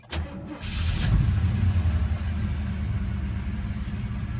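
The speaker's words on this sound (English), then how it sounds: "So I'll start the engine." A warm 1978 Volvo 262C Bertone cranks briefly, then catches and settles into a steady, close idle that carries on evenly, with no voices.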